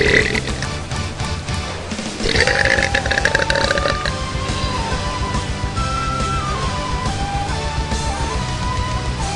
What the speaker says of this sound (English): I seriously don't know what's wrong with my burps because all I'm drinking is water